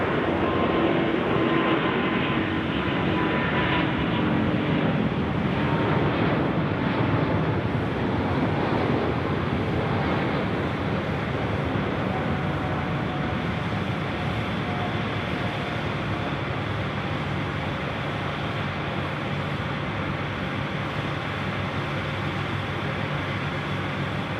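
A plane lands at night on runway 34 left at Sydney Airport, its engines a steady distant roar mixed with gusting wind buffeting the microphone for the whole stretch.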